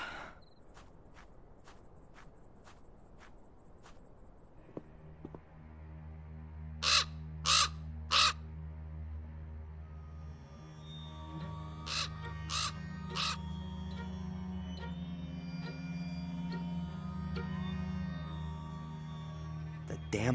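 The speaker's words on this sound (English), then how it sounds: "The damn bird again." A crow in the game Black Mirror II gives a quick series of three loud caws, then several fainter ones, over a droning low ambient hum, after earlier sharp clicking sounds.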